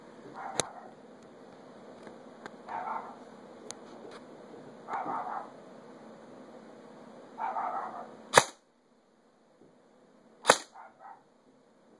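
A JG M4 S-System airsoft rifle with an upgraded Classic Army gearbox fires single shots through a chronograph. Several sharp, loud cracks come at irregular intervals, with quieter mechanical sounds between them and one pause of near silence.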